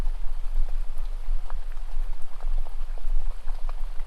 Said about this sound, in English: as the rain sounds heavier and heavier